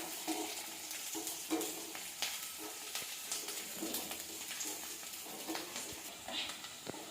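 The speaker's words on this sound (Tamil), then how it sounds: "ஒரு கொத்து கருவேப்பிலை போட்டுக்கலாம். நல்லா வதங்கட்டும் வெங்காயம்." Onions fry in a pan with dried red chillies and curry leaves, a steady close sizzle with occasional stirring clatter and sharp pops, no voices.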